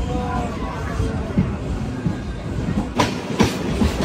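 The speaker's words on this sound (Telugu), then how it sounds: "మన ట్రైన్ అయితే స్టార్ట్ అయిపోయింది" A MEMU passenger train on the Anantapur to KSR Bengaluru route pulls away and runs along the rails, giving a steady close rumble with rhythmic wheel clicks and a couple of sharper bursts of noise.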